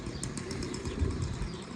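A homing pigeon flaps its wings as it arrives at a racing pigeon loft, a soft, close fluttering whir lasting about two seconds with no voices.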